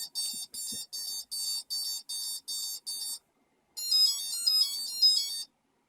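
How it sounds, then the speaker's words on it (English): Quadcopter ESCs beeping during calibration with the throttle lowered from full: eight evenly spaced electronic tones, a short pause, then a warbling run of higher beeps, clear and close. "You can see we've got different beeps this time."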